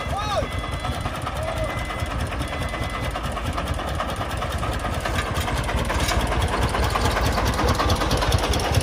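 A Vietnamese công nông agricultural truck hauling sand on a muddy road runs with a loud, continuous chugging engine drone that swells slightly over time, with speech mixed in.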